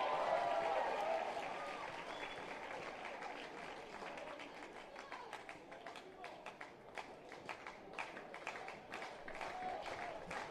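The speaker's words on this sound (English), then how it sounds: "The crowd coming alive." Baseball crowd at a BYU versus Louisiana Tech game cheering and clapping steadily, a broad roar with scattered claps that swells at the start and then holds, with voices mixed in.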